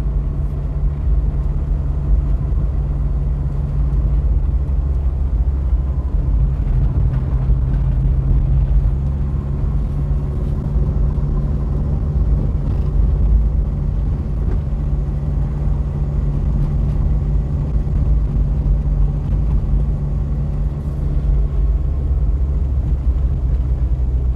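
A car drives along a bumpy mountainside road in St. Elizabeth, Jamaica. A constant, loud low engine rumble fills the cabin, mixed with road noise and faint knocks, with no voices.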